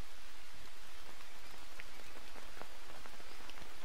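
Steady rain falling in the survival game Green Hell, a dense, even hiss of drops spattering on surfaces throughout, alone with no voices.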